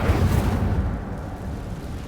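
An Incendio fire spell cast in Hogwarts Legacy bursts out with a loud whooshing roar, then trails into a steady rumbling crackle of flame that holds for about two seconds.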